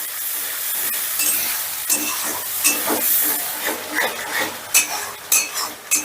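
Ground spice paste stir-fried over a medium gas flame in a pan for Potol Gobindo, with a steady hiss and sizzle and frequent scraping clinks of a spoon against the metal, growing more pronounced toward the end; no talking.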